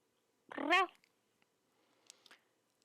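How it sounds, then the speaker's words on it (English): A single short meow-like cry, fairly close, followed by a few faint scattered clicks in otherwise quiet surroundings. "I heard cat."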